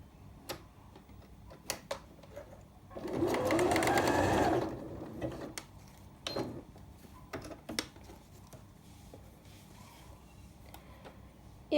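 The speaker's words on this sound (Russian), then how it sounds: "И аккуратно вставляю наше изделие в бейку и начинаю шить, слегка натягивая саму бейку." A sewing machine stitches bias binding onto a top at stitch length 2, one close whirring burst of about a second and a half set among scattered light clicks and handling ticks in a quiet room.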